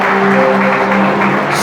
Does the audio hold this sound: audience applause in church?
yes